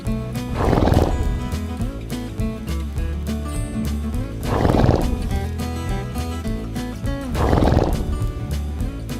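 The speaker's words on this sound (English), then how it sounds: "Donkey." A farm-animal toy plays a recorded donkey bray three times at regular intervals, each a loud, harsh, rising-and-falling call, with a steady rhythmic backing between them.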